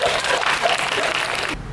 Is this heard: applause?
yes